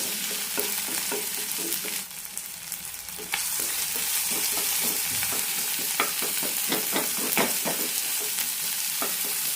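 Tomatoes sizzle and fry with softened onions in a pan for a cluster beans curry, steady frying hiss with repeated scraping stirs of a spoon, close and fairly loud, no talking.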